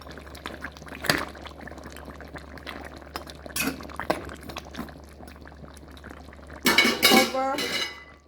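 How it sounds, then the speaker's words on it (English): Beef stew stirred in a pot after hot pepper sauce goes in, with clinks and scrapes of a utensil against the pot, a louder clattering burst near the end, and no talk. "Let's just stir."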